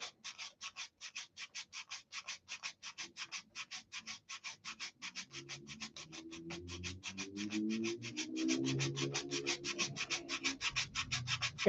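Hand sanding on wood, a steady train of close, rhythmic rasping strokes continuing without pause, joined by a low rumbling hum in the latter half; no one speaks.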